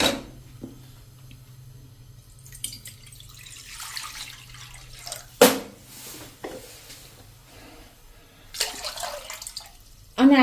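Four cups of water poured into a pot on a gas stove for making salted peanuts, heard as intermittent splashing bursts over a low steady hum.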